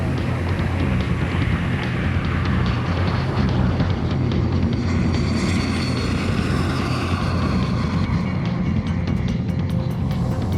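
An aircraft accelerates down the runway and climbs away, heard from inside the cabin as a loud, unbroken roar of engine and airflow that stays steady throughout.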